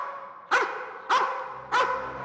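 A police dog barks three times during a search of a large building. The barks come at a steady pace, loud and close, with a slight echo and no one speaking over them.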